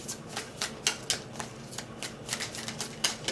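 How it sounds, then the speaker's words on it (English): Tarot cards drawn and shuffled from a deck, a run of quick papery flicks and slaps in an irregular rhythm, close and moderately loud with no talking. "So I'm going to pull 6 cards."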